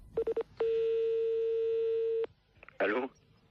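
Telephone sounds for a prank call: three short tone pulses, then a long, steady, loud ringback-like tone lasting about two seconds, followed after a gap by a short burst of voice on the line.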